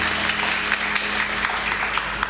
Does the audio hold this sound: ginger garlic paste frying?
no